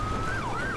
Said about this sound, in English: Hitting him with a siren.